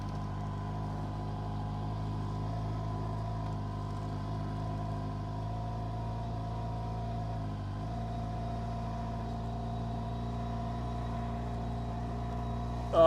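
A 2007 Campagna T-Rex trike with a 200 hp Kawasaki 1350cc engine idles and creeps forward, a steady low engine drone holding close and even throughout.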